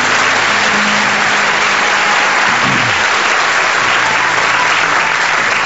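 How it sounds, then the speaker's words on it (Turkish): Loud, dense studio audience applause at a Turkish comedy sketch show, an unbroken wash of clapping hands filling the whole stretch, with a brief low murmur partway through. "alkışlarla çok teşekkür ederim"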